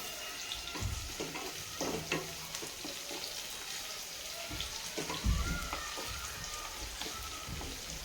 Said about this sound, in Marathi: तर इथं कांदा परताय टाकलेला आहे आपण कांदा परतून घ्यायचा आहे